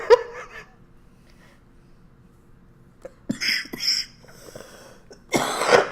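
A few short, rough coughs, faint at first and louder near the end, with quiet gaps between them.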